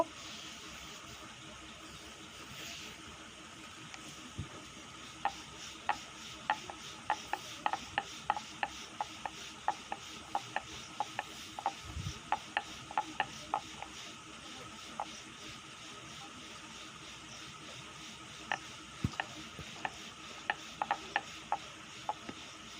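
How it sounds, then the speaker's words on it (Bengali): Pasta dough being rolled out thin like a roti, giving close, quiet rubbing with a run of rhythmic light taps and knocks from the rolling pin, alone without talk. "তো এটা রুটির মতো করে আমি এখন বেলে নেব।"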